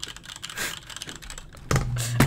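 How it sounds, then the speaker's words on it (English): Typing on a computer keyboard, a run of faint, quick, irregular clicks that is close and soft, then heavier broadband noise with a low hum toward the end. "I can barely hear a keyboard."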